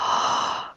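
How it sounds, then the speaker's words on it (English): In a tabletop role-play session, a single breathy human gasp sounds close and clear, held under a second before cutting off. "you can hear a gasp."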